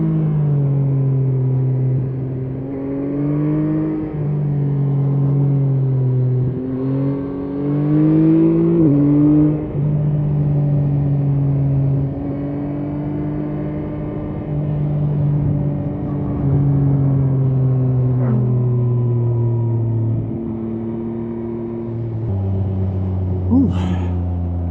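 A 2025 Yamaha MT-09 naked motorcycle's engine hums steadily while riding, with pitch shifting as it accelerates and changes gear. Wind rumble runs underneath.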